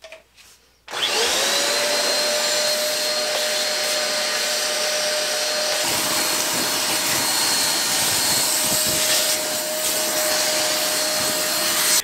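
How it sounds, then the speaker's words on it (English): A vacuum cleaner sucks up metal shavings from a floor during an arcade cabinet restoration. It switches on after about a second and then holds a loud, steady, close whine and rush with a high tone, and no talking. "So let's get the vacuum."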